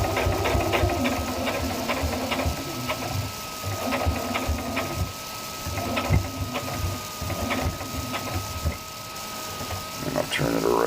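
A sewing machine runs a zigzag stitch back over fabric, a steady mechanical whir with rhythmic clicking needle strokes, fairly close. A voice talks over it throughout.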